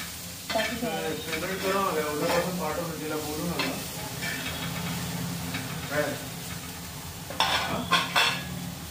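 Green vegetables and potatoes with chili powder being stirred and fried in a pan, steady sizzling with scraping stirs and occasional clinks of the utensil against the pan, a voice talking over it.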